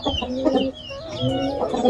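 Jawari country chickens cluck and call repeatedly at a poultry farm in Bijapur, a busy, close chorus of overlapping hen voices with no talking.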